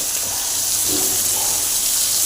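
Soaked tamarind juice poured into a pot of simmering tomato and dal for a cucumber rasam, a steady close splashing gush of liquid running the whole moment without talk.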